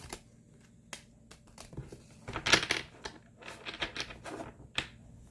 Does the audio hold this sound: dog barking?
no